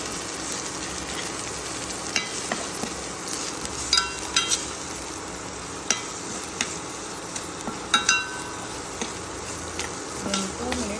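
Masala for a colourful vegetable sabji sizzles in a pan while being stirred, with a constant fry hiss broken by sharp clicks and scrapes of the spoon against the pan.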